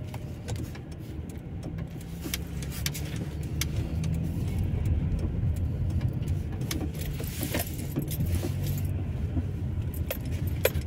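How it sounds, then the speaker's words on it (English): A car drives slowly through a B&Q car park in Luton, UK, heard from inside: a low steady engine hum with rattling and jangling keys throughout, plus occasional clicks and bumps, no talking. "I'm just driving out of B&Q car park now."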